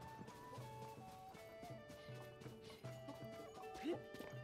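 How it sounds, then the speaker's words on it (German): Horse hooves clip-clopping in the video game The Legend of Zelda: Tears of the Kingdom, a steady moderately loud galloping rhythm over game music with tonal notes, no talking. "Warte, ich hole eben kurz mein Pferd."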